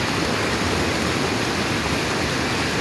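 The swollen Rio Salgado flows full through the sertão of Ceará, in Brazil's northeast, as a steady, loud, unbroken rush of water with no voices over it.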